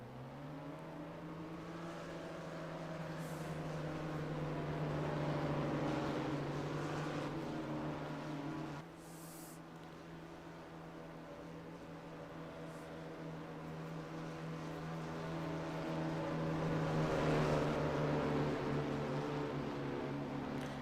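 Several race car engines rev and drone in a racing video game, rising and falling pitches sweeping across the field in waves, moderately loud and continuous with brief gaps between passes.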